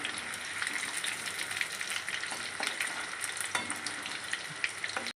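Cauliflower 65 pieces deep-frying in hot oil in a pan give off a loud, continuous bubbling sizzle with crackly pops throughout, close and steady before cutting off abruptly.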